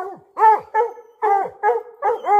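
Several dogs barking outdoors in cold weather, with about seven sharp, yelping barks arriving in uneven bursts, close and loud, with no talking.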